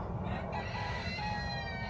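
A rooster crows nearby over steady outdoor background noise in open desert country, with faint clucking from fowl around it.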